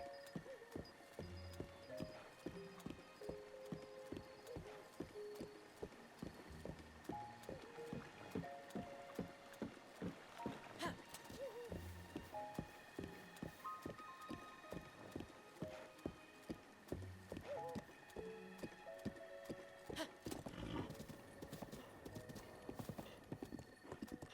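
A horse in the video game The Legend of Zelda: Breath of the Wild, its hooves clip-clopping in a fast, even, continuous rhythm at moderate level, with an occasional whinny and a faint game music tone beneath.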